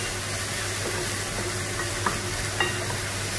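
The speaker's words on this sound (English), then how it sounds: "we saute it before we put in the concassate tomatoes" Garlic and onion sautéing in olive oil for a Neapolitan tomato sauce give a steady, close sizzle and hiss, with a few soft stirring scrapes near the end and no talk.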